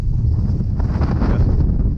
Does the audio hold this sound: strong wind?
yes